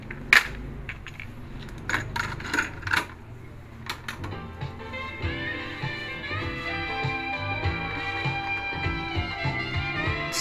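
Cassette player running on its normal setting, starting with a few sharp mechanical clicks and clunks, then settling into steady music playback with sustained tones, moderately loud and close with no talking.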